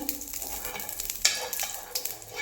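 Ghee sizzles steadily in a hot pan over a low flame, a close, continuous crackling fry with small bursts of spitting, no talking.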